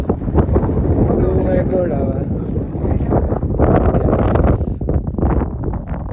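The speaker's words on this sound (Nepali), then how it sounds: "हावा चाहिँ वाइल्ड चलिरहेछ हिमाली बबाल दिइरहेछ" Strong, gusty Himalayan wind in Mustang buffets the microphone in loud rumbling blasts while someone talks throughout.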